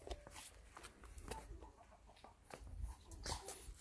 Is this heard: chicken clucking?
yes